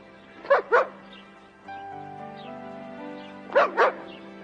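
Rex the dog barks in two short doubled bursts, a pair near the start and another pair near the end, with a steady low hum in between and no talking.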